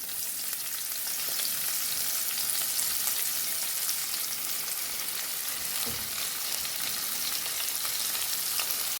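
Sliced onions fry with asafoetida in a pan for methi matar rice, giving a loud, dense and even sizzle that hisses continuously, close up, with a faint knock partway through.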